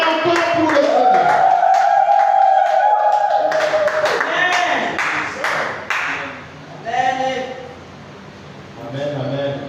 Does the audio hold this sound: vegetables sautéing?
no